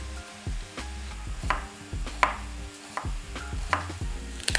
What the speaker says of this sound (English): we mince some onion.